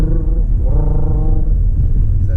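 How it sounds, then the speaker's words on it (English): A 2019 Lexus LS500's 3.5-liter twin-turbo V6 runs close by with a loud, steady, smooth rumbling drone that swells slightly midway, with no talking. "Oh, the engine sounds good."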